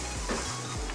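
Carrot rice with dry fruits being stirred in a pan for gajar ka zarda, a brief close scrape and soft sizzle over a steady cooking hiss.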